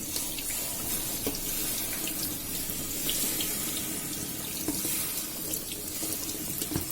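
Cold tap water gushes steadily over a pressure cooker in a kitchen sink, a close continuous hiss and splash with small splattering ticks, no talking.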